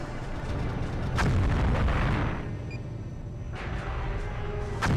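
Heavy weapon blasts from a favourite gun in the space combat game Colony Wars: Vengeance, a few booming shots and bursts spread across several seconds, loud and up close with no talking.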